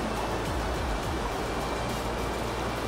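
Steady loud rushing water while a river is crossed in Goiás, Brazil, a constant close wash of flowing current with no voices.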